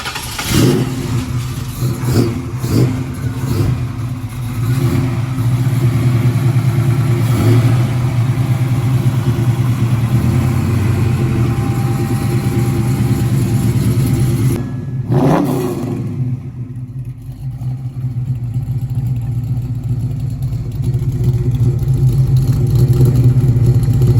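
A Ford Mustang V8 fires up with a few quick revs, then idles steadily and loudly up close, dipping briefly before the rumble resumes.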